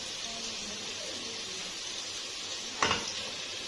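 Potatoes fry in mustard oil in a pan, giving a steady, soft sizzling hiss, broken near the end by one brief clink as a piece is lifted out.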